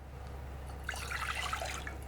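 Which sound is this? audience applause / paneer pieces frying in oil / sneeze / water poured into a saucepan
water poured into a saucepan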